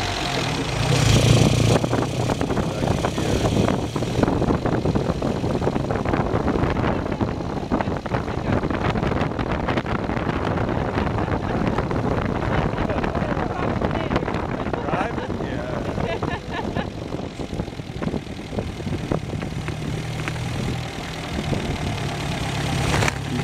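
A 1955 MG TF's engine revs and pulls through the gears from the passenger seat, giving a steady mid-pitched drone with rising and falling revs, and voices talk over it now and then.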